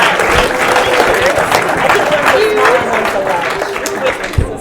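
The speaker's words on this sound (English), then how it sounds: "Let's give them a round of applause." An indoor audience at an outdoor-startup talk event breaks into loud, sustained clapping. The applause is mixed with crowd chatter and shuffling and holds fairly even before thinning out at the end.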